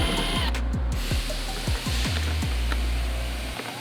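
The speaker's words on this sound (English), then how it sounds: "help me Mike, we'll either use a Phillips screwdriver by hand, or we'll back these out." A power screwdriver backs out Phillips screws from a Porsche 996 Twin Turbo air box, whirring in repeated short bursts, close and fairly quiet, with a few small clicks and no talking.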